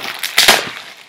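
A ceramic mug clatters and knocks in a quick burst of sharp impacts, close and fairly loud, then settles into quieter rustling.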